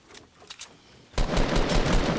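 Fortnite Battle Royale gunfire scoring a headshot: a quiet lead-in gives way abruptly to a loud, dense rapid burst of shots that runs on to the end.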